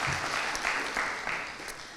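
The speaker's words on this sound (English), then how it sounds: "You guys can clap too." An audience at a Gwinnett County youth commission graduation ceremony claps steadily for a couple of seconds, a moderately distant, even patter of many hands.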